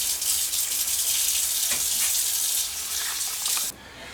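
A small splash of water from a tap runs into a roasting pan holding bacon and a bird's neck, a steady loud hissing stream that cuts off near the end.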